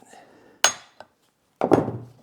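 Metal parts of a Triumph TR4 A-type overdrive planet gear assembly are knocked apart: two sharp hammer strikes followed by a louder double knock with ringing, close up and without talk.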